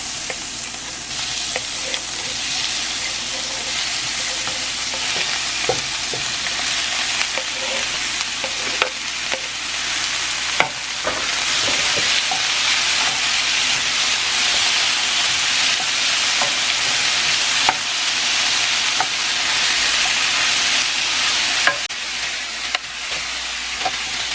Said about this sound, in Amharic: ሞቅ ካደረግን በኋላ ስጋውን ብቻውን ነው የምጨምረው